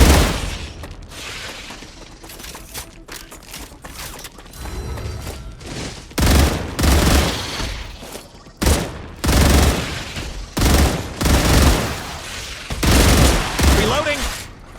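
Bursts of automatic gunfire in a video game battle, heavy rattling volleys that start and stop every second or so with booming impacts, loud and near, with a voice talking at moments between bursts.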